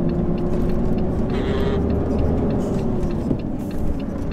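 Truck with a 13-speed manual split gearbox accelerating in fifth gear before merging onto the East Lancs road, a steady loud engine drone with road rumble, heard from the cab.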